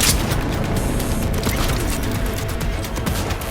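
Power weapons firing in the video game Cyberpunk, a dense, sustained burst of loud booming gunfire with rapid repeated shots filling the whole stretch, no talking over it.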